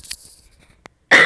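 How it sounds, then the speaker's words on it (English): A single sharp cough bursts out loud and close at the end, after near-silence broken by a faint breath and a small click. "Excuse me, I have to cough."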